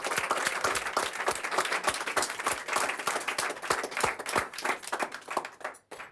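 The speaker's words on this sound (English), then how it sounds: "Do we just clap or?" A small audience claps steadily for several seconds, sharp overlapping hand claps that stay fairly even before stopping abruptly near the end.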